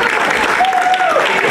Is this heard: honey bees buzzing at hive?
no